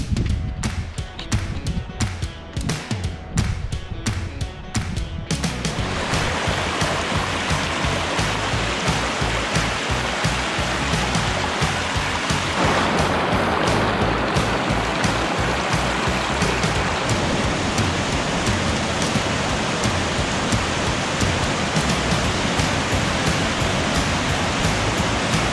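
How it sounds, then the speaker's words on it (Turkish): A waterfall at the foot of the snowy Cilo Mountains in Hakkari rushes in a dense, constant roar, close and loud, preceded at the start by a few seconds of sharper crackling. "Şu anda karşımızda çok güzel bir şelale var."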